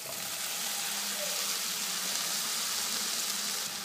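Washed broccoli goes into a hot pan of sizzling peas for a broccoli bhaji, giving a steady, close frying hiss with faint watery crackle throughout and no voices.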